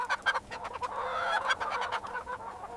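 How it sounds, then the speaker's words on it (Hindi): Hens cluck at a poultry breeder farm, a steady run of close, overlapping calls with short bursts over a constant farm background hum, and no voices. "सबकी शुरुआत होती है ब्रीडर फार्म से, जहां स्वस्थ मुर्गियां अंडे देती हैं।"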